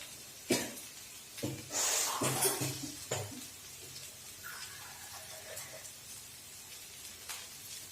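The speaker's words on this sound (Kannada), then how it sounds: "ಸ್ವಲ್ಪ ವಾಟರ್ ಆ್ಯಡ್ ಮಾಡ್ಕೊತಾ ಇದ್ದೀನಿ." Water is poured into a pan of frying okra (bendy fry), giving a short hissing splash and sizzle that fades to a faint simmer, with a clink of utensils.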